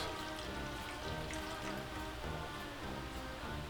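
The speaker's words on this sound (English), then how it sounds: "So I'm gonna add in some vegetable broth." Vegetable broth is poured into a pumpkin cream sauce, giving a soft, continuous splashing patter of liquid close by for a few seconds, with no talking.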